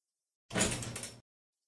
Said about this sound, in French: The store's automatic door opens.